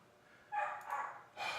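A dog barks and yips in a few short bursts at moderate volume, waking up in the middle of a livestream, with no speech over it.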